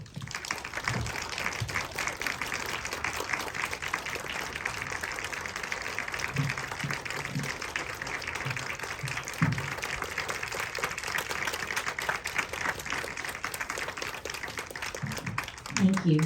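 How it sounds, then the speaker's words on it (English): Audience applause for actors at a film festival reenactment screening, steady dense clapping sustained for many seconds with occasional voices underneath. "If we can actually have all of our actors and leaders come to the front so we can give them another round of applause."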